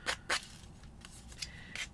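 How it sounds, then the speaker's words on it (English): Two quick snips of scissors cutting paper, followed by a few softer snips and rustles, close and isolated. "it's easier sometimes just to use the scissors"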